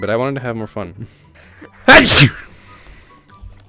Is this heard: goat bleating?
no